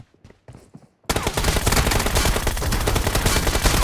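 Video game team deathmatch gunfire: after about a second of quieter sounds, loud sustained automatic fire erupts and continues in dense rapid bursts to the end, with no talking.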